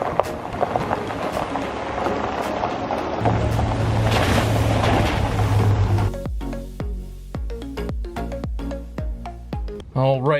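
A 2019 Ram pickup fitted with new splash guards drives down a rural road and through a puddle, a rushing wash of water and tyre noise building to a loud splashing surge before fading under engine sound.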